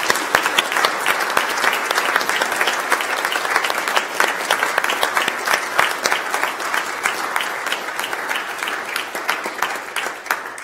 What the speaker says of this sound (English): let's have a round of applause for these parents